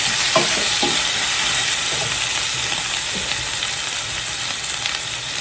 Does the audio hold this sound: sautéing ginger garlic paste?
yes